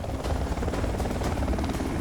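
Combat helicopters operating around amphibious helicopter carriers at the Toulon naval base produce a steady, loud rotor roar with rapid, even thudding blade pulses throughout.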